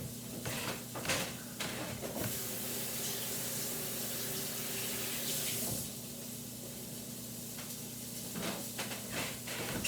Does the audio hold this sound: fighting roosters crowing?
no